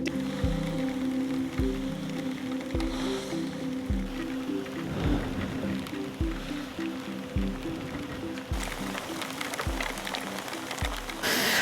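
Rain falling steadily along a road during a thunderstorm, a continuous close hiss with periodic low thumps, becoming a little brighter and heavier toward the end.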